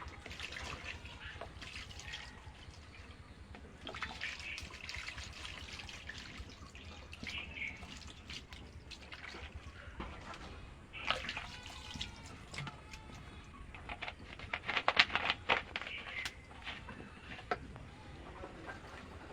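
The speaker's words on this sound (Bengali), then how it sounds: "দেখেন ছানা থেকে কত জল বেরোচ্ছে।" Water drains and trickles from freshly washed chhana, homemade paneer curds, in a home kitchen, heard as continuous splashing and dripping with irregular louder spurts.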